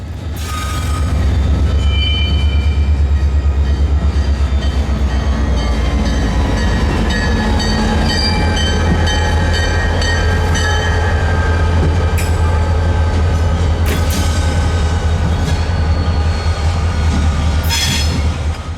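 FEC freight train 141, led by locomotives and carrying 18 concrete high-and-wide loads, rolls past close and loud with a deep steady rumble, wheel squeal and clanking from the cars throughout.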